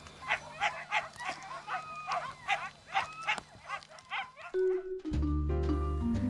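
Sled dogs bark repeatedly in a snowy mountain setting near Ushuaia, with rapid overlapping barks from several dogs at moderate distance, followed by a swelling music-like tone at the end.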